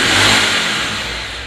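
The engine of a Black Beauty motorcycle revs loudly up close during an RPM check, holding a steady high roar before easing off slightly.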